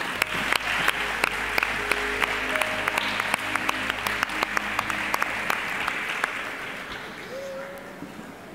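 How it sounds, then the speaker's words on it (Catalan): Strong applause from an audience at the 2015 presentation of the festival queen and maids of honour in Orpesa, sending off the town's mayor; dense, steady clapping fills the clip, with a faint voice over it, fading slightly near the end. "Despedim amb un fort aplaudiment"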